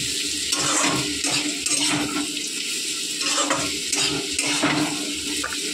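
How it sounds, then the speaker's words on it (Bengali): Potatoes frying in a pan at home, with a steady, loud broadband sizzle and crackle running throughout, broken by periodic scraping and stirring sounds and no talking. "আলু ভাজা করছি"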